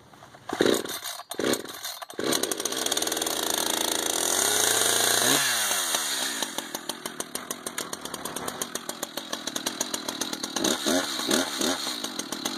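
An ECHO CS-590 Timberwolf chainsaw warms up just after a partial start, its engine running loud and close with a steady, buzzing idle that wavers and surges a few times.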